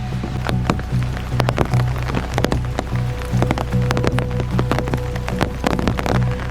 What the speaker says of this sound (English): All right, nice rainy day.